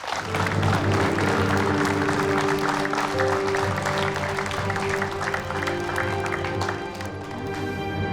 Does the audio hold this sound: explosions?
no